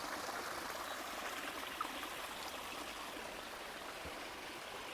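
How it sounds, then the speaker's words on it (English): A stream flows beside a hiking trail, its water making a steady, even rush with no voices over it. "I'm going to be quiet for a moment so you can hear the sound of this water."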